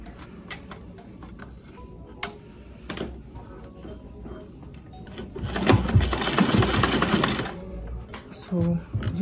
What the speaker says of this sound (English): So you're going to sew your bias on it so you can cover it up.